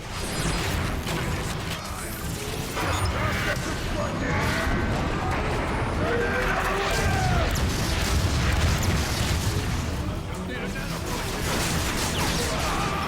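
Booming artillery-strike blasts and crashing impacts in Transformers: Fall of Cybertron pound steadily alongside mechanical clanking in a dense, loud battle mix, with voices talking over it.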